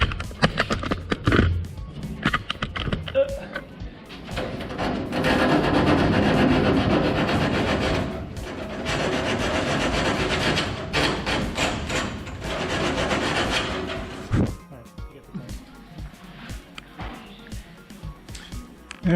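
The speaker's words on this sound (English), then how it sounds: "There, you got all that deburred." Metal edges of RANS S-21 aircraft tailcone skins are deburred by hand, giving steady scraping and rasping strokes, close and fairly loud, with rapid rubbing passes that taper into lighter scrapes near the end.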